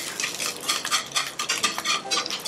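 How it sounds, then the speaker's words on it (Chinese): Strips of shiitake mushroom stir-frying in oil in a wok, with rhythmic scraping and stirring strokes over a steady sizzle, loud and close. "那香菇丝一样就是一样先爆香"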